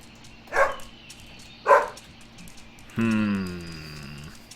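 Two short, clear dog barks from the Helltown horror game, spaced about a second apart, followed by a longer sustained tonal game sound over a quiet low ambient hum.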